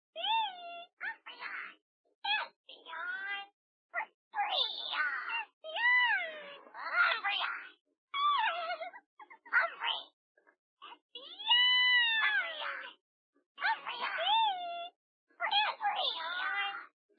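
A pet cat meows repeatedly in a run of drawn-out, wailing cries with short pauses between them, close and fairly loud over an otherwise quiet room.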